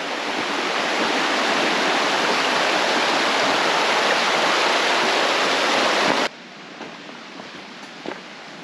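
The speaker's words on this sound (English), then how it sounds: "Stream." A creek in Sunol Wilderness in spring, its water rushing over rocks in a loud, dense, steady roar that cuts off abruptly near the end, leaving a much quieter flow with faint ticks.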